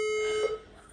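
A building's fire alarm system sounds a single steady electronic tone, loud and close, that holds for about half a second and then cuts off, leaving a quiet room.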